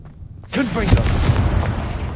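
A Confringo fire spell blasts in Hogwarts Legacy, a sudden loud burst that swells into a sustained roaring, crackling rumble with game music or effects layered over it.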